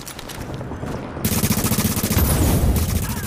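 Loud, sustained automatic gunfire from a weapon in the video game The Division, a rapid volley that starts partway through and keeps hammering in dense bursts.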